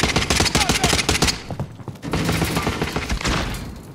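Rapid automatic gunfire in Call of Duty: Modern Warfare, loud and close in quick rattling bursts, a brief lull, then another sustained volley.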